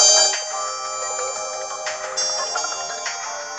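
Bright, chiming electronic game music from a Nintendo DS playing Pokémon titles, a quick melodic loop of tinny tones heard clearly without talk.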